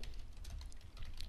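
Quiet, steady tapping of keys on a computer keyboard while a command is entered in a Linux terminal on Windows, a continuous patter of short clicks with no voice.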